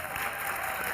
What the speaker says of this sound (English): Can I get a big applause for Jean Rhodes?